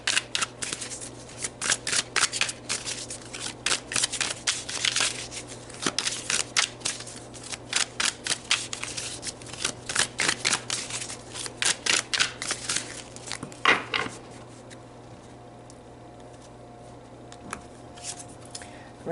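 A deck of tarot cards is shuffled by hand in a long run of quick, crisp riffles and slaps, close and fairly loud, easing off into quiet near the end.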